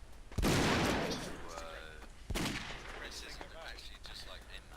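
Gunfire in the video game Brick Force: two heavy, booming shots with long ringing decays and some metallic echo, loud against a quiet background.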